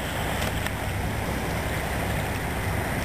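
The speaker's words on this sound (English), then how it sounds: "I can hear the boats coming in and out." A continuous wash of water and engine rumble as boats move nearby in fog, steady and moderately loud with a faint low drone beneath.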